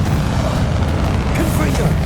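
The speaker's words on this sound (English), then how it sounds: "Bombarda!" Bombarda exploding spell in Hogwarts Legacy going off with a loud, dense booming blast that rumbles continuously through the short moment amid battle noise.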